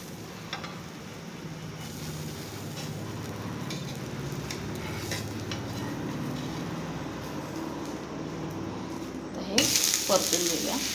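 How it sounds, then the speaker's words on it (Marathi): A besan chila fries in oil on a pan with a continuous crackling sizzle. A brighter, louder burst of hissing comes near the end. "याच्यावर वरून थोडंसं तेल घालूया आणि दुसरी बाजूही व्यवस्थित भाजून घेऊया."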